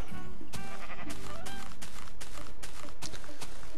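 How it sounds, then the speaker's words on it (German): Sheep bleats in the video game Minecraft, repeated sharp calls over constant loud game noise with footstep-like thumps, dense and close with no pauses. "dann haben wir hier wieder ein Schaf"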